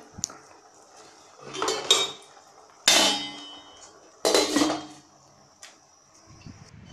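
Metal clanks and scrapes of pot and lid in three bursts, a lid rattling down onto a pot of cooking vegetables, fairly close with quiet gaps between.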